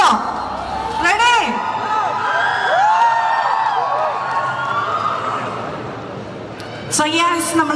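An audience at a celebration event for the Malayalam film Sookshmadarshini cheers and whoops loudly, with shrill shouts rising above a steady crowd roar and swelling again near the end.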